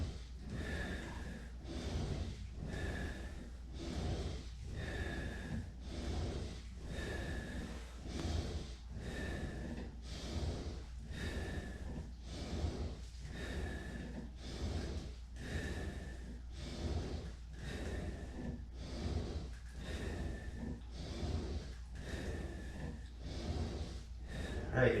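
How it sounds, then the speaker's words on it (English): Steady heavy breathing during triceps reps on a Total Gym, with rhythmic inhales and exhales repeating about every second and a half for the whole stretch, close and fairly quiet with no talk. "Basically, you want to inhale as you push down, exhale as you're coming up."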